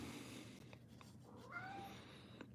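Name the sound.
cats meowing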